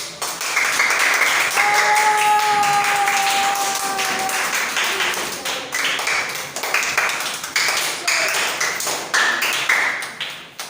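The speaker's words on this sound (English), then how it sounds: "let's give them a round of applause." Audience applause fills the room, steady and dense, with scattered individual claps and a few sustained electronic tones running through the early part.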